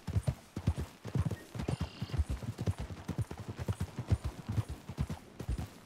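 Horse hooves clip-clop steadily in Red Dead Redemption 2, a brisk rhythmic gait of loud, close thumps, with a brief whinny partway through.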